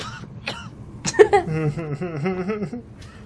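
A short burst of coughing and throat clearing, close by, followed by a voiced, rhythmic wheezy sound.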